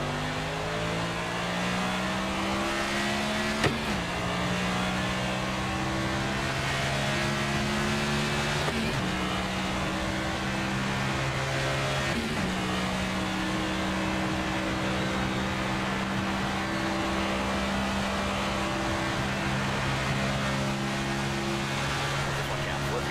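A race car in a racing video game runs at full throttle, its engine droning steadily while the pitch climbs and drops sharply at each gear shift over a long, continuous run.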